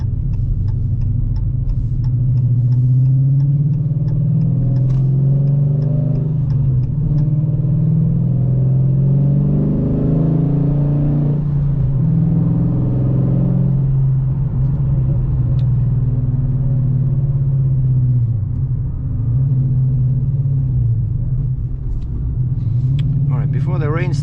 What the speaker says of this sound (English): if a civilian and non-car enthusiast likes how my car sounds